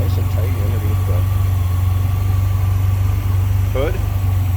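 A 1985 TVR 280i's 2.8-liter Ford V6 idles with the hood open, a steady low rumble throughout, near and loud, while someone talks briefly over it.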